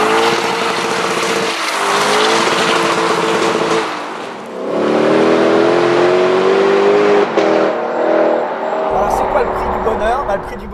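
Lexus LC500 with a naturally aspirated V8 doing a burnout, engine roaring loudly with tire squeal through most of the stretch, a brief dip midway, then a further surge.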